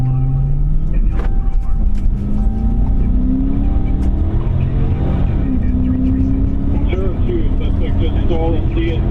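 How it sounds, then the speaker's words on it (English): A stolen state police patrol car pulls away and speeds off, its engine rising steadily in pitch as it accelerates, with wind rushing over the microphone and a voice speaking over the engine noise. "he takes the wheel and drives off in the now stolen vehicle"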